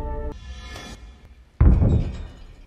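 A single heavy thud in a horror film scene lands suddenly and loud after a stretch of quieter sustained tones, then rings out briefly.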